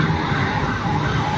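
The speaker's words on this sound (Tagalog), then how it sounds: "May ambulansya, galawin nyo muna ambulansya." Ambulance siren wails loudly and close at the scene of a truck crash on a busy avenue, filling the whole moment amid traffic rumble, with no talk.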